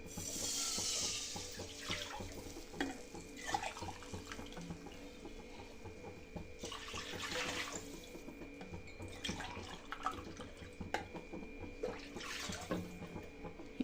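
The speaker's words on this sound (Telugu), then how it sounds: "ఏ గ్లాస్తో అయితే సేమియా తీసుకున్నామో అదే గ్లాస్తో మూడు గ్లాసులు వాటర్ వేసుకోవాలండి" Water is poured from a glass into a pan, three glassfuls while cooking vermicelli payasam, giving faint splashing bursts that come in separate pours with quiet gaps between them.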